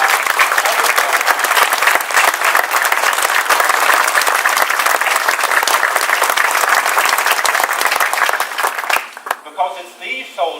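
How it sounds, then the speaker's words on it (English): Sustained loud applause from a crowd honoring soldiers and a military band at a ceremony, dense steady clapping for about nine seconds before fading out as a voice begins to speak. "I would like everyone to give a round of applause to these soldiers and to other soldiers."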